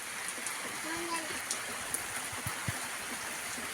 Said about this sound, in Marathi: कारण त्या पावसानंतर हे दुसरा पाऊस आहे बरं का